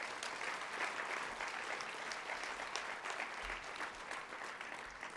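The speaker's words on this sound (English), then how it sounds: "Everybody can give them applause." Sustained applause from an audience at a volunteer awards ceremony, a dense and even wash of many hands clapping heard from a moderate distance and continuing for several seconds.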